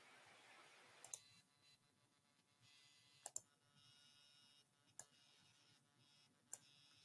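Four sharp computer mouse clicks come at spaced intervals, some as quick doubles, close and crisp against near silence.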